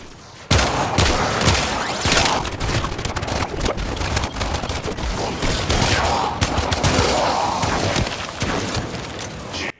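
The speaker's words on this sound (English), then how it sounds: "I was wondering what the hell this corpus was shooting at." Dense automatic gunfire from Corpus enemies in the Warframe video game crackles almost nonstop for several seconds, loud and close with booming impacts layered in, no voices over it.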